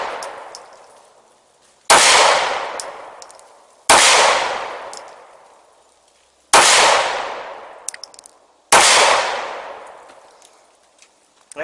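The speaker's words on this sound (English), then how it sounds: "I'm going to shoot the right target with the more expensive pistol." Four loud pistol gunshots fired at targets on a range, each a sharp crack with a long decaying echo, spaced about two seconds apart with no talking.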